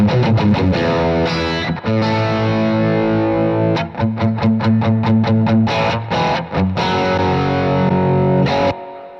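Electric guitar, a '61 Stratocaster played through a boost and reverb, giving distorted strummed chords and a run of sharp rhythmic stabs, loud and close with no talking, ringing out before cutting off near the end.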